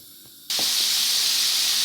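Double-coated popcorn chicken pieces drop into hot frying oil, setting off an abrupt, loud, steady sizzle that continues evenly, preceded by a brief quiet moment, with no talk.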